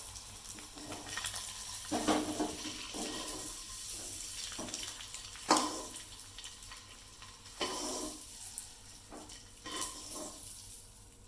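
Eggs stir-fried in masala for an egg kurma, a moderate sizzle broken by repeated scraping stirs and clattering bursts, close up with no talking.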